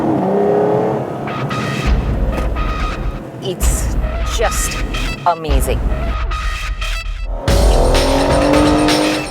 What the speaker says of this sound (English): I couldn't resist when I blipped down the gears.